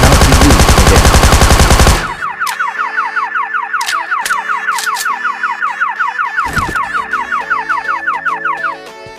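In PUBG Mobile on the Miramar map, a burst of gunfire hits a drink machine and sets off its alarm. A loud rattling volley comes first, then a rapid warbling electronic alarm that repeats for several seconds with a few more shots.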